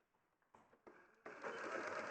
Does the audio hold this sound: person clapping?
no